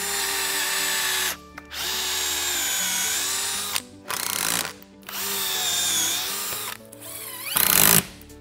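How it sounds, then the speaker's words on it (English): A power drill drives screw holes into wood for a homemade vacuum table, with several loud whining bursts of a few seconds each separated by short pauses and brief ratcheting clicks. "I'm gonna put some screws in here, drill all my screw holes,"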